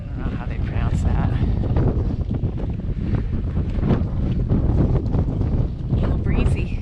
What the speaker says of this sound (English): A little breezy.